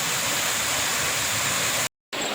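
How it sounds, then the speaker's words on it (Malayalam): A monsoon-season waterfall roars with a dense, continuous rush of falling water, close and loud, briefly cut off near the end. "ഇവിടുന്ന് ഇങ്ങനെ വെള്ളം ചാടുന്നുണ്ട്"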